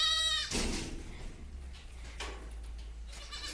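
Goats on a farm bleat, one clear close bleat at the start followed by fainter, breathier calls against low background hum, with no talking.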